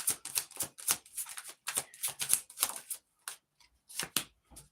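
Tarot cards are shuffled up close in quick, crisp bursts of slapping and riffling, with short gaps and a few softer taps toward the end.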